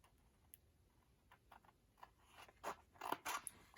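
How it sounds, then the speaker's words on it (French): Scissors snip through a fused tea bag rectangle in a few soft, close, crisp cuts, quiet at first and growing sharper toward the end, with no talking. "je vais venir couper mon rectangle"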